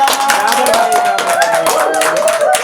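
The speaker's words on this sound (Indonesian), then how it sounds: "Tepuk tangan dong" Clapping from an audience at a poetry competition prize ceremony, brisk rapid hand claps with sharp taps mixed in, close and loud, while voices chatter underneath.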